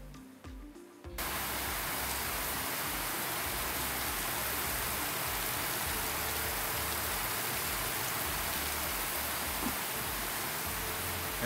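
Rain pours steadily onto a Sri Lankan beach, a dense, unbroken hiss that starts after a brief quieter moment and holds at an even level throughout, with no voices.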